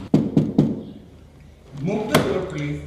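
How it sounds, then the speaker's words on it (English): Three sharp knocks on an apartment door in a Bronx building, loud and close, followed by a muffled voice answering from behind the door. "We knocked on Orozco's door looking for answers"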